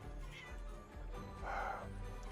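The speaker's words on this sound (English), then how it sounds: "Cats are fighting." Cats fight and meow in a PS5 video game, with drawn-out yowls, one louder caterwaul near the end, and a low game ambience underneath.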